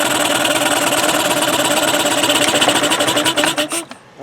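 A Mercury Marine 9.9 outboard motor runs on choke after a no-start problem, giving a steady, buzzy mechanical drone with rapid rhythmic pulsing that cuts out near the end.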